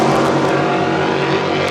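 Racing cars in a EuroV8 Series race at Monza roar loudly and continuously close by, a dense, sustained engine howl with no talk.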